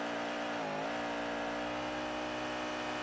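A car engine revs hard in The Grand Tour video game, holding a loud, steady droning whine. The pitch briefly dips and recovers early on, and the engine stays continuous with no talking.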